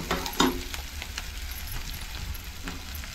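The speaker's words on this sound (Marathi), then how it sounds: "थोडीशी आलं लसणाची पेस्ट घालते, ही रेडीमेडच आहे, मी हे केलेलं आहे। जेवढी आपल्याला जेवढी पाहिजे तेवढी आपण घालायची। हे सगळं ढवळून घेते।" Ginger-garlic paste sizzles in a hot frying pan as it is stirred in, with a steady frying crackle and a few scraping spoon strokes, nearby and moderately loud, no talking.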